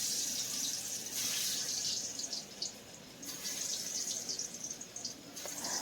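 Gathi kochu (taro) pieces frying in well-heated mustard oil, giving a steady, close, bright sizzle with slight surges, and no one talking.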